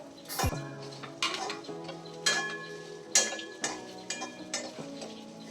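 Drumstick and coconut masala sautéing in a pan for a drumstick kurma, heard as repeated sharp clinks and scrapes of a spoon against the pan at an uneven rhythm over a faint background, with no talking.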